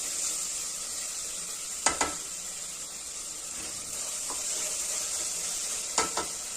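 Tomatoes frying with salt in a pan give a steady, close sizzle throughout, broken twice by brief clinks of a utensil stirring against the pan, with no talk.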